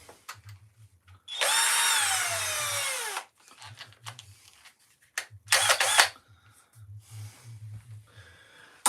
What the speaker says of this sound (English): So let's drill these holes.